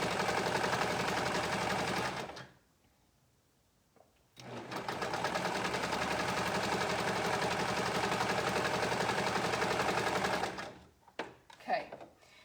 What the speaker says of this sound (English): We're just sort of sewing it straight on as we go around that outer edge of the hood